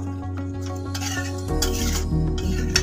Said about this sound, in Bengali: গরম মশলা দিয়ে দেবো, দিয়ে আবারও মিশিয়ে দেবো।